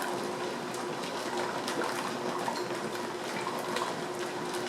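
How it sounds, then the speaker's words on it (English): Steady low bubbling and churning of boiling water in a canning pot processing jars of spaghetti sauce, a continuous rolling wash of sound with faint metallic clinks, close and fairly loud. "And you can hear that bubble."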